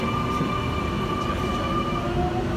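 A Sydney Trains electric passenger train rolls through Petersham station in the afternoon peak with a steady, loud rumble and a sustained motor whine throughout, close by and without pause.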